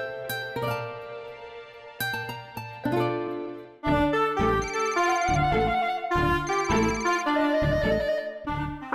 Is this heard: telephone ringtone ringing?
yes